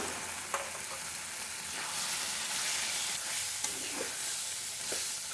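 Greens fry with a little ghee in a pan, a steady close sizzle and crackle with occasional soft scrapes of stirring.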